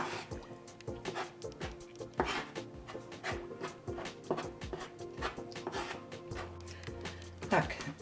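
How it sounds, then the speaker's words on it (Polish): Pierogi dough being stirred slowly by hand while water is poured in, giving repeated wet squishes, drips and light clicks of a spoon against a bowl, close and fairly quiet with no talking. "Mieszamy powolutku, wlewamy, próbujemy jaka konsystencja."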